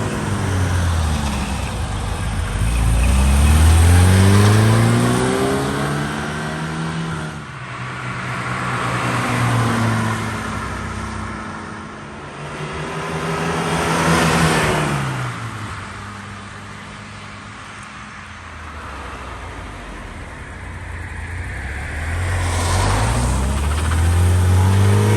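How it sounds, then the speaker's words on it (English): A 1973 BMW 2002tii's 2-liter 4-cylinder engine with 4-speed manual hums and rises in pitch through repeated accelerations and gear changes, its droning whine swelling and falling over about twenty-five seconds. "Does have a 2-liter 4-cylinder engine, 4-speed manual transmission."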